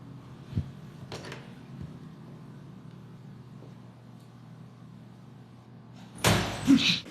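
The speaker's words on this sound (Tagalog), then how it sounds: "Umalinganggaw sa banyo ang malakas na pagsara ng pinto" A bathroom door slams loudly near the end after a quiet stretch with a low hum and a few faint knocks, the bang ringing briefly in the hard, echoey bathroom.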